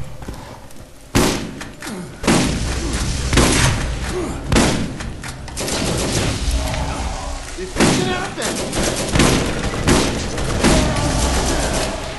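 Shotgun blasts in the Borderlands video game, a series of heavy, thudding shots spaced about a second apart over continuous game noise, with people talking in between.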